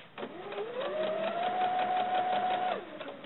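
Sewing machine running steadily as it stitches a line on small BJD doll leggings, the motor rising to a level whir with rapid needle pulses before stopping abruptly, close and alone.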